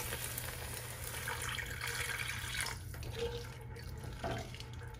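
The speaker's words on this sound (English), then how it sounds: "And then I'm just gonna add some water." Water pours steadily into a pot of black beans seasoned with cumin and bay leaves, a continuous splashing rush with a faint low hum beneath and no talking.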